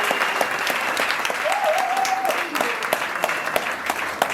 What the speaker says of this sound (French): Il faut qu'on les applaudisse.